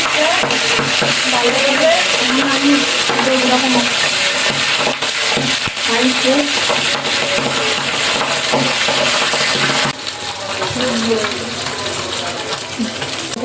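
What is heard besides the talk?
pabda fish frying in a pan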